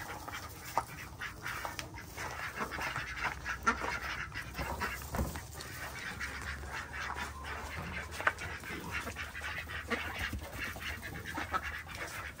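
Ducks quack repeatedly at an outdoor feeding spot, a dense run of close calls over steady background noise, with the odd sharper squawk standing out.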